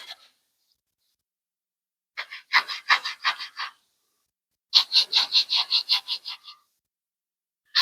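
Trailer part being scrubbed with parts cleaner to rough up the surface and remove sand and grit, two bursts of quick rhythmic back-and-forth abrasive rubbing separated by silence, close and moderately loud.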